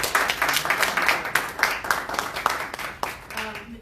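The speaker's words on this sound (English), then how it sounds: "so I want to give a great round of applause to Tammie for this achievement" A round of applause rises at a corporate charity campaign announcement, many hands clapping in a dense, steady patter for several seconds before thinning out near the end.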